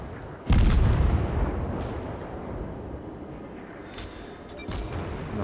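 A heavy naval gun salvo from a World of Warships training cruiser, the Katori, booms once loud and near, then rolls into a long rumbling decay, with a fainter second report later.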